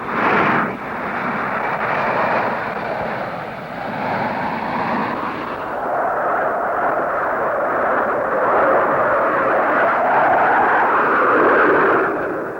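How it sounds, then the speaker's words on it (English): Hawker Siddeley Harrier military strike aircraft at the Farnborough display, a loud, steady jet roar that swells and holds broadband, with no talking. "the remarkable Harrier military strike aircraft, which will shortly be going into service with the Royal Air Force"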